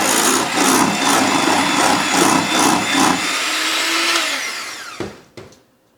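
Lemon cream is whisked with confectionery sugar in a bowl, a steady scraping, rubbing rhythm of repeated strokes up close that stops abruptly near the end.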